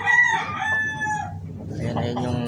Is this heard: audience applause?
no